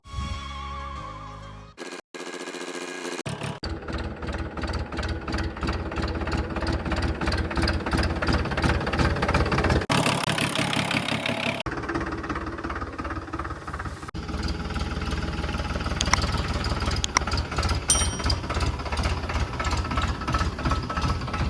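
A tractor fitted with a cultivator runs on a farm, a loud, steady, close engine drone with a rhythmic knocking pulse. It continues almost unbroken throughout, with one brief dip near the start and no talking.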